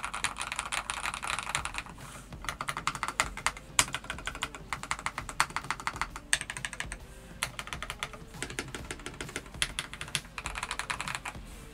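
Rapid, continuous clacking of a modified TKL mechanical keyboard with Rose Red switches, keys struck in quick bursts with brief pauses, close up and fairly loud, no voices.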